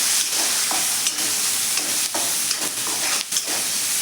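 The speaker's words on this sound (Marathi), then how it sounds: "आपलं तेल छान असं गरम झालेलं आहे। आपण सर्व कांदा यामध्ये घालून घेऊयात आणि व्यवस्थित आता आपल्याला मिक्स करून घ्यायचं आहे।" Onions sautéing in hot oil in a pan, a continuous close sizzle with soft intermittent stirring scrapes and no speech.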